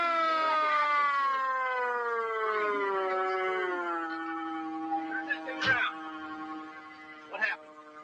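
An ambulance siren from a 1974 film sweeps and slowly winds down in pitch as a clear, wailing tone, followed by a few soft knocks and handling sounds near the end.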